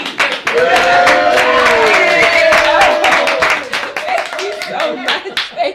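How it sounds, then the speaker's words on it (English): An audience claps in a steady rhythmic beat at a festival performance, loud and close, with voices cheering and singing over the clapping. "go ahead and start clapping now"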